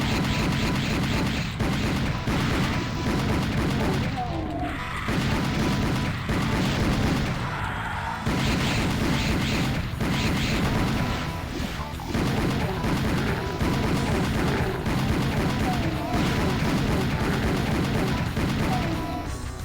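Dual pistols firing in the game Doom: a long run of sharp, rapid shots, one after another, with impacts and crashes mixed in, loud and close for about twenty seconds.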